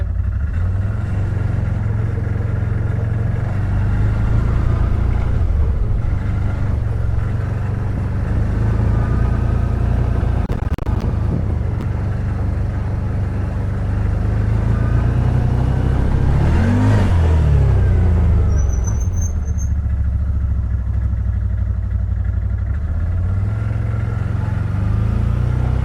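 2021 CF Moto ZForce 950 Sport UTV driving on asphalt with four-wheel drive engaged, its engine droning loud and steady throughout with a brief rise in revs midway.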